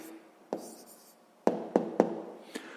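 A pen writes on paper while an answer to a sixth-grade maths exercise is taken down, with a few short scratchy strokes and taps, separate and close, over quiet room tone.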